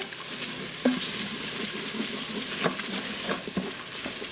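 Vegetables seasoned with chow mein seasoning sizzle steadily in a pan while being stirred, with scraping and clatter of the utensil over constant loud frying.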